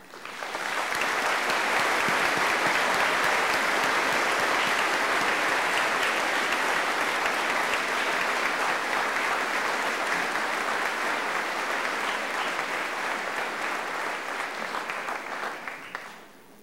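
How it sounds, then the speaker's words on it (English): A high school graduation audience applauds student award and scholarship recipients, loud dense clapping from a large crowd sustained for about sixteen seconds before fading out. "Please honor these students with your applause."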